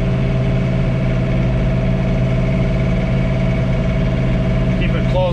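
A John Deere 3046R compact tractor runs with a snow blower attached in winter snow, producing a constant, close, loud engine drone with steady tonal hum and no change in pace across five seconds.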